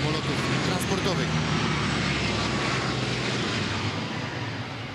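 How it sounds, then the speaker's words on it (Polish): A Lockheed C-130E Hercules four-engine military transport flies over a parade, its broad, steady propeller-engine roar filling the air loudly and continuously, fading slightly toward the end, with a public-address voice faintly underneath. "Lockheed C-130E Hercules trzeciego skrzydła lotnictwa transportowego. Jeden z największych czterosilnikowych samolotów transportowych."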